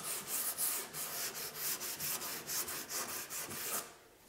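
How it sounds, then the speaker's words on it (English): A sander knocks the sharp edge off a wooden furniture piece, giving a rhythmic series of short rubbing strokes, about a dozen close passes in steady succession that stop near the end. "the sander just to knock this edge off"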